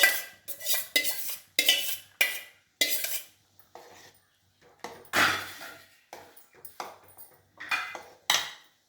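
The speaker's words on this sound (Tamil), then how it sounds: "நல்லா பருப்பை கடைஞ்சி வச்சுருக்கேன். துவரம் பருப்பு" Mashed toor dal going into a pot of drumstick sambar, with repeated close metallic clinks and scrapes of a ladle against the pot, in short bursts separated by pauses.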